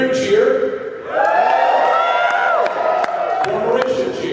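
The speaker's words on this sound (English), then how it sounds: "For Karen, cheer." Convention panel audience at Magfest 2015 cheering for a contestant, a loud, close crowd of whoops, shouts and sustained yelling rising and holding for several seconds, with a few claps mixed in.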